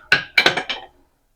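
The weight goes onto a pressure cooker lid over cooking rajma: a few quick, bright metallic clinks close by, the first single, then three in a short cluster, ringing out fast into silence.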